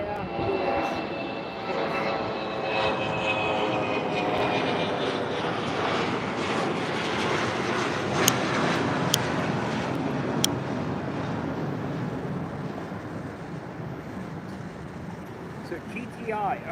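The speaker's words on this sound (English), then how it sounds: "That looks like a heavy coming in on the south." A heavy aircraft approaches from the south, its broad, steady engine roar spread across the whole clip at moderate distance, with people talking over it.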